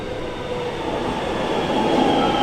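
Passing train, a steady rumbling roar of rail cars with a faint rhythmic clatter that swells slightly louder toward the end, heard alone with no voices.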